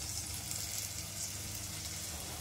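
Bengali crab curry with spices simmers on medium heat, a steady close hiss of sizzling and bubbling that holds level and unbroken throughout.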